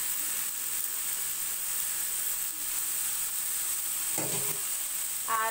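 Pumpkin sizzles steadily as it fries in a pan with onion and green chillies, a continuous close crackle with a couple of brief stirring clatters near the end.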